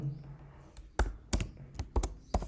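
Python code being typed on a computer keyboard: a handful of crisp, close key taps in an uneven rhythm, fairly quiet, with a faint voice murmuring before the keystrokes.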